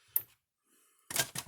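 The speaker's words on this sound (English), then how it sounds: "plug it in, turn my power strip on, see what it does. Now it's clicking." A repaired Gallagher M1200i electric fence energizer, plugged into a power strip, gives sharp mechanical clicks: a single snap, then a pause, then a quick pair of crisp clicks close by.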